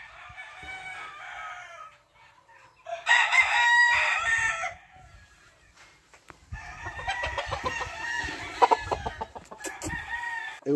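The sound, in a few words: rooster crowing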